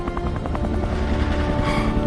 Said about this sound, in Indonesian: namun John berhasil masuk ke dalam helikopter